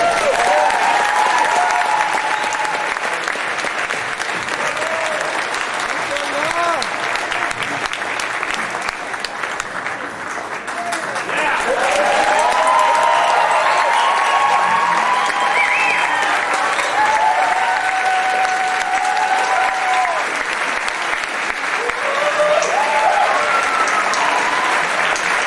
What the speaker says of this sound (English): Can we get another round of applause for the Lebanese Club?